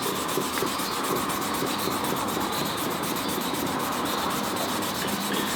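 Hand wet sanding of a car's clear coat along a curved panel, a steady, close, continuous rubbing hiss with fine rhythmic strokes throughout.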